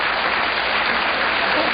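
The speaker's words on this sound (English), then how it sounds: "A joke always gets applause." Sustained applause from a television studio audience responding to a joke on a political talk show, a thick, uniform roar of clapping hands at constant loudness with no voices on top.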